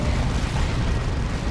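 A destructive strike explosion in the real-time strategy game Dawn of War 2, a dense, loud rumbling blast with heavy low-end boom sustained across the moment amid battle noise.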